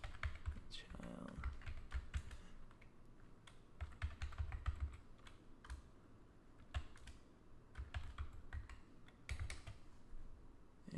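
ActionScript 3 code being typed for a Flash pinball game on a computer keyboard, heard as close, uneven bursts of key clicks with brief pauses between runs, without speech.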